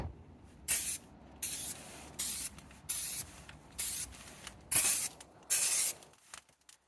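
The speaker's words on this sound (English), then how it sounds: "I'll spray some on the oil pan so we can see what it looks like" Aerosol can of undercoating sprayed onto a Jeep oil pan in repeated bursts of roughly half a second each, about eight hissing sprays separated by short pauses, close and fairly loud with no talking.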